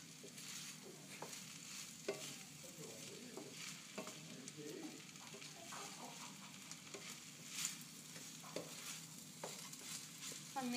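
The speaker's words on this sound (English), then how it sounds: "I'm mixing it around. You don't want it just to sit in one spot." Chicken coated in chorizo oil is stirred around a hot pan, giving a steady low sizzle broken by scraping and clacking stirs at irregular intervals, close and moderately quiet, with no voices.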